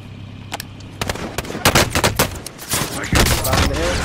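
Rapid bursts of gunfire from the video game Call of Duty Warzone, loud close shots and fusillades in uneven clusters, intensifying toward the end.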